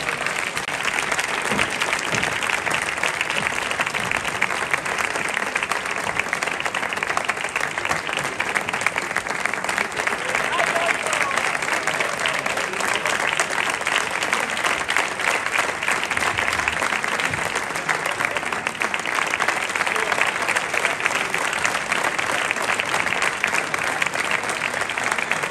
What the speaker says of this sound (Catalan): Un aplaudiment per a ells.